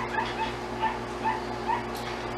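A dog gives soft, repeated high whimpers, about four evenly spaced cries, fairly close and quiet over a low background hum as it is handled.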